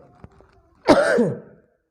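A single short, harsh cough close by, after a faint click, then silence.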